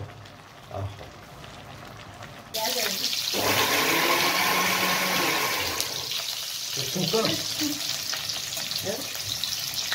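Onions hit hot oil as a tempering in a pan, setting off a sudden loud, steady sizzle that slowly eases, with a voice talking quietly before and during it.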